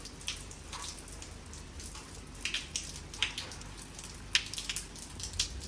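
Rain falling outdoors in Lucknow, heard as faint, scattered drips and light patter over a steady soft hiss, with a few sharper drops standing out.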